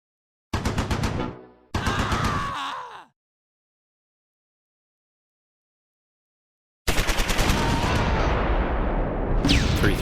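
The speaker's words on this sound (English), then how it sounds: "The 50 cal on the Stuart opens up." Bursts of .50 cal machine gun fire from a Stuart tank in the WWII strategy game Close Combat 4, two loud rapid rattling bursts, a long silence, then a sustained roar of gunfire and battle noise.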